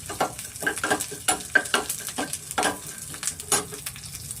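Curry leaves, asafoetida, chana dal and urad dal sizzle in hot oil for a tempering, with a soft frying hiss beneath repeated close spoon scrapes and clinks against the pan.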